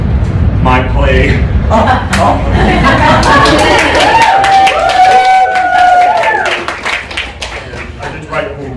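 Applause and cheering from a theatre audience after a play, a dense sustained patter of clapping with crowd noise and voices mixed in, thinning toward the end.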